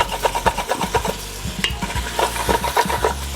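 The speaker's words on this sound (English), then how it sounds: "we're gonna use a wooden spoon. Because? Just to scrape off that that beautiful fond at the bottom." A wooden spoon scrapes browned fond from the bottom of a hot pan during beef stroganoff cooking, with rapid rhythmic scraping strokes over a steady sizzle, close and clear.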